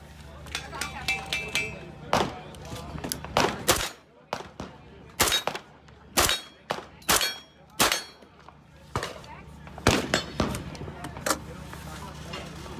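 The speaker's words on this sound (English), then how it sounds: "We're shooting American Tactical slugs." An American Tactical 410 gauge shotgun fires slugs outdoors at a shooting range, a series of sharp, loud single reports spaced irregularly about a second apart, with someone talking between shots.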